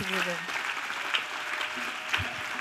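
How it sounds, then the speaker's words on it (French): A church congregation claps together, a dense continuous patter of many hands, with a voice speaking over the start. "Let us clap"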